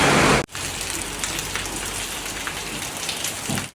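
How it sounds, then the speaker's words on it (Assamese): Heavy downpour drumming steadily and loudly on surfaces, a dense continuous rain roar that fills the clip after a brief louder burst at the start, with no voices. "বৰষুণ"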